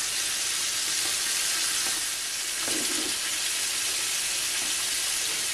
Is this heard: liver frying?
yes